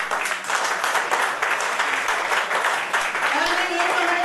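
Sustained applause from an audience for a voice artist at a Hindi poetry festival in Palam, Delhi, steady and fairly loud throughout with a voice briefly heard near the end.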